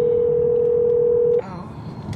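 An unanswered phone call sounds a single steady electronic tone for over a second, then cuts off abruptly, leaving low background room noise and faint voices.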